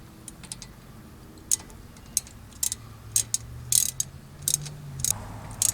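A socket ratchet tightens the 13 mm lower caliper bolt during a front brake pad job on a 2010 Chrysler Town & Country, giving a series of close, quick clicking bursts in uneven runs over a quiet garage background.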